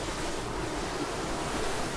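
A waterfall in Nueva Vizcaya, its water now murky and strewn with litter, roars as a steady, broadband wash of rushing water with no voices over it.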